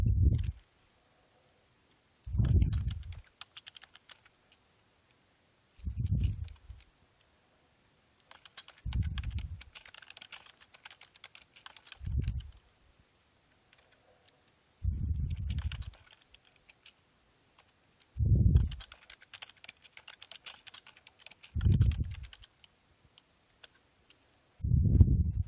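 Computer keyboard and mouse clicks at a desk during software work: evenly spaced clicks and short bursts of keystrokes recur every few seconds, close and fairly quiet with no talk.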